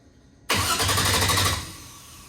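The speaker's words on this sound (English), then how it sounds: "Just gonna crank it till I see some pressure, maybe." An Eagle Talon car engine cranks for about a second in one loud burst with a rapid chugging rhythm, then drops to a fainter tail, while the car sits with no fuel pressure after being rewired.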